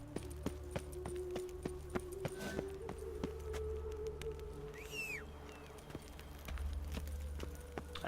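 Horse hooves in the Witcher 3 video game thud in a steady, quick rhythm over a low ambient hum, with a brief rising creature-like call partway through.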